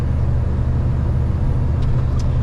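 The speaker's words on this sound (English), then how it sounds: "Now check out this truck." A heavy truck with four rear axles passes on a highway between New Jersey and New York, a steady loud low rumble of tires and engine with wind noise, alone with no talk.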